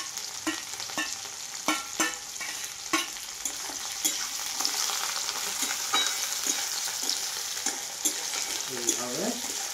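Tomato and coriander leaves lightly frying in a pan for a mutton curry, a soft steady sizzle punctuated by regular sharp spatula knocks and scrapes, close and moderately loud, no speech.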